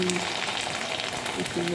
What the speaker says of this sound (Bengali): পাপড়গুলোকে ভাজছি